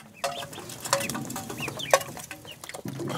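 Incubator-hatched chicks on a farm give soft, close peeping and clucking calls in scattered bursts over low background noise, with no talk.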